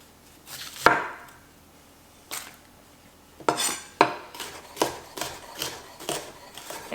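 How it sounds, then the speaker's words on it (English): A knife slices bell pepper on a cutting board as soup is prepared, giving a string of crisp, close chopping taps that start sparse and quicken into a steady rhythm, with no talking. "Peppers are pretty easy to slice up."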